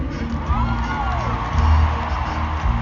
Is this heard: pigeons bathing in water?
no